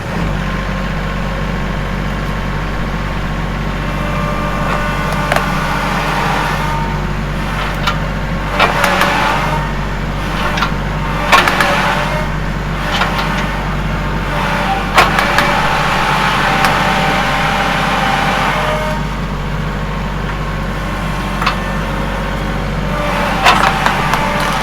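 A tractor engine labors steadily at low pitch while pulling out a tree stump, a constant rumble with scattered clicks and knocks from the work on top, and no talking.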